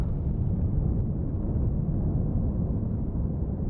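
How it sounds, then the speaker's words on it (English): Explosions in the video game Dune: Awakening, a continuous deep rumbling boom with heavy low-end roar, loud and sustained, no voices. "What is with all the explosions going on?"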